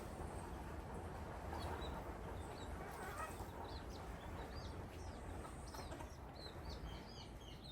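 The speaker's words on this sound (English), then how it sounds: "if you hear that rumbling of feathers, there's a neighbor who has a flock, a ginormous flock of homing pigeons." A low, continuous fluttering rumble of the wings of a large flock of homing pigeons passes overhead while small birds chirp and call in the background.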